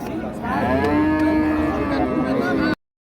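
A bull bellows a single long, loud moo at close range at a busy cattle market, the call holding steady for about two and a half seconds before cutting off.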